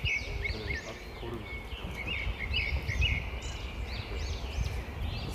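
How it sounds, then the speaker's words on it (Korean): Birds sing in an arboretum in Osan, Gyeonggi Province, with repeated high chirping phrases over a steady, rumbling outdoor background. "새소리도 너무 좋네요."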